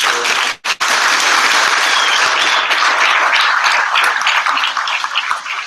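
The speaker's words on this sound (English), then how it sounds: "So I think she deserves a round of applause." A room at a graduation ceremony breaks into loud, continuous applause, with a brief dip early on before dense clapping carries on steadily to the end.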